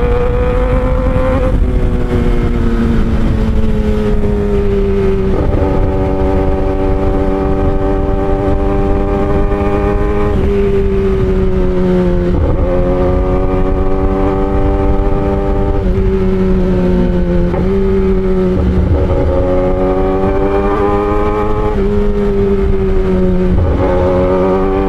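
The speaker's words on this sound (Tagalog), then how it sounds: "Nakamotor tayo." A motorcycle engine drones loud and close throughout the ride, its pitch climbing and then dropping at each gear change, with steady wind rush underneath and no voices.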